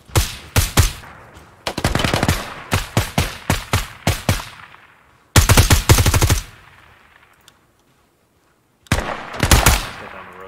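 Automatic gunfire from the video game Ground Branch during a night mission: several loud, rapid bursts of shots separated by short pauses, then a longer silence before a final burst.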